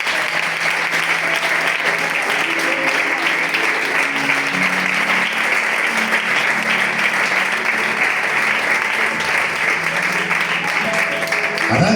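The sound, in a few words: congregation applause in church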